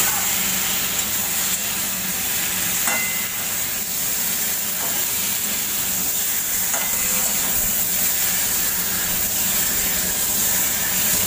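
Flat beans frying in a pan with spices, a dense, constant sizzle and hiss close by, with occasional faint scrapes of stirring underneath, no talking.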